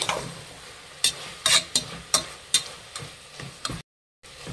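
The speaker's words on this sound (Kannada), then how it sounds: "ಈಗ ಸೋಯಾ ಹಾಕ್ಕೊತಾ ಇದ್ದೀನಿ" Soya chunks are stirred into vegetables frying in a pan for soya biryani, a series of about eight sharp spoon-scraping strokes at an even rhythm over a faint sizzle, close up with no talk.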